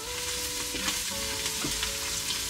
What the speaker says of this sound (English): for all the garlic and ginger to saute and the aroma to release